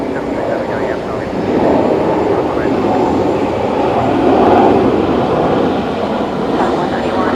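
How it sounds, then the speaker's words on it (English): A Qantas Boeing 737 heads out at Brisbane Airport, its engines a steady, broad roar that swells slightly midway and holds throughout, close and loud, with some talk mixed in. "737 going out now"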